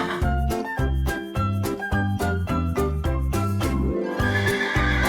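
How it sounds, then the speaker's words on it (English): A horse neighs with a long whinny near the end, over a steady children's song backing track with a rhythmic beat throughout. "Horse."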